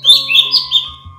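A white-rumped shama songbird, a contest-class murai batu, sings a rapid run of loud, close, high whistled chirps and trills, clear and without talk.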